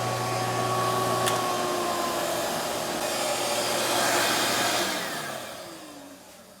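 A used Jet 8-inch jointer runs with a dust collector hooked up, giving a loud steady whirring hum with a high whine that swells and then winds down near the end.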